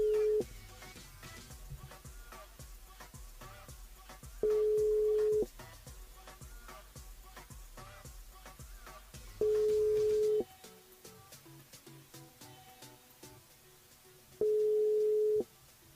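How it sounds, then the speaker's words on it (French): A ringing tone on a radio call-in phone line repeats four times at even intervals, each burst about a second long, over a low background hum. "Dernier sonnerie."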